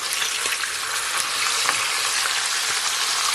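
Fish fried crispy in hot oil for Jamaican escovitch fish and flipped over in the pan, a loud, dense, continuous sizzle and crackle close up, with faint clicks of the turning utensil and no talking.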